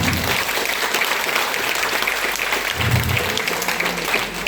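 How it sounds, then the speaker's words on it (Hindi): Steady, dense applause from a crowd cheering for a product at a Hindi promotional family gathering, a continuous wash of clapping at even loudness with no clear speech on top. "इस प्रोडक्ट के लिए बात जोरदार तालियां हो जाए।"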